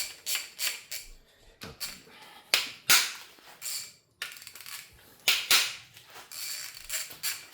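A ratchet wrench breaks loose bolts on the bottom end of an LS LY5 engine, giving repeated clicking ratchet bursts with short pauses between them, close and fairly loud, with no talking.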